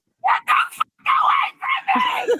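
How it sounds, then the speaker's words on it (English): Several loud, strained vocal bursts in a row, like a person screaming or yelling in anger, with short pauses between them. "You screaming at me is not going to solve anything right now."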